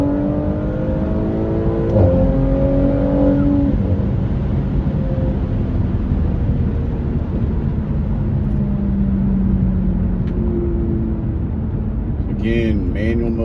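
An Audi B9 RS5 launching hard on launch control with the throttle floored, the engine note rising loud and close as boost builds, with a voice speaking over it near the start.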